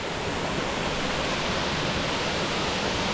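A steady, full roar of rushing water from a waterfall in Guhagar, Ratnagiri, Konkan, heard close by, continuous and unchanging throughout with no voices.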